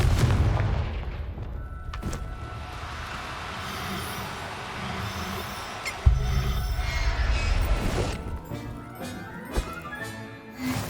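Confringo spell blasts in Hogwarts Legacy: deep rumbling booms with sudden impacts partway through, over steady game ambience and distant crackles, with no one talking.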